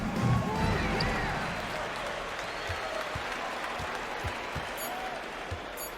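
A home crowd in the basketball video game NBA 2K25 cheers and applauds after a victory, a broad sustained roar of clapping with a few faint ball bounces and thuds underneath.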